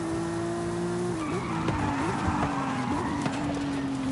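Car tires squealing and skidding under hard braking in Forza Horizon 5, a steady engine drone with falling tone pitch running underneath as the slide continues, loud and close throughout.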